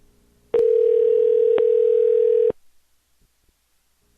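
A steady, loud electronic telephone tone sounds for about two seconds on a forwarded phone call, cuts off, and is followed after a quiet pause by one short beep.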